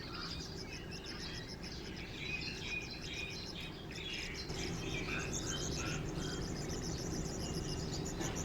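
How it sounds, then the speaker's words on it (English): Many birds chirp and trill in the early morning at a campsite in Kruger National Park, a dense, steady chorus of overlapping calls with insect-like buzzing, moderately near and without talk. "There is so many birds out early in the morning just sitting warming up in the sun."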